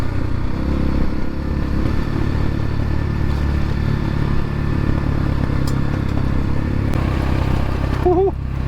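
Dirt bike descending a dirt trail on the Apache Trail toward Roosevelt Dam, its engine a steady close drone with some gear rumble and rattle throughout, a rider's voice rising briefly near the end.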